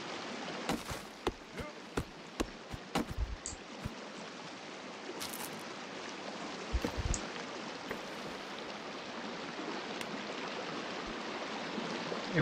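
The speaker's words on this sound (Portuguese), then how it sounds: "Eu vou seguir" A waterfall stream flows in the Sons of the Forest video game, a steady, soft broadband rush with scattered sharp ticks and splashes, heard alone at low level.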